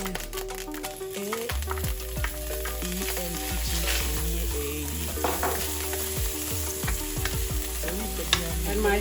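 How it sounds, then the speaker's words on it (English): Ginger, garlic and chopped onion fry in a pan for a vegetable stir fry, a close, steady sizzle broken by repeated stirring scrapes, with a tonal hum running underneath. "And you give it a good stir."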